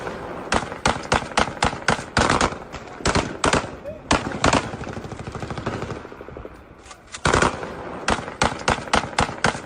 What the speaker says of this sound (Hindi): इलाके में अचानक चली गोलियों की वजह से दहशत फैल गई